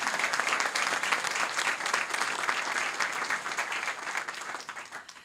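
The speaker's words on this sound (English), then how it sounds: "Let's give a round of applause for these exceptional students and educators." Sustained applause from an audience at a school board meeting, honoring students and educators; steady dense clapping that fills the room, then gradually tapers off near the end.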